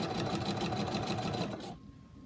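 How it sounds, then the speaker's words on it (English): A sewing machine runs a steady, rapid stitch down a quilt block line at short 1.5 stitch length, loud and close, then stops abruptly near the end into quiet room tone. "Sewing all the way down that line, and I'm going to go out to the dotted line"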